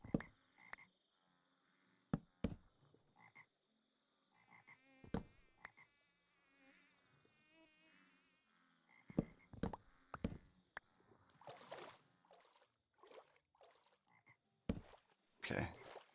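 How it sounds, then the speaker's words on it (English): Ambient frogs croaking in the Minecraft FTB Academy modpack, intermittent bursts of croaks and buzzing calls scattered across quiet stretches, with a few sharp clicks and thumps in between. "I like the ambient frog noises."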